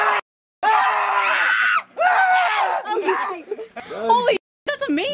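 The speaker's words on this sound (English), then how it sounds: "I just made it bad by screaming so much." Someone screams in fright several times, loud and close, in long shrill bursts broken by short silences. Tense vocal groans and cries follow near the end.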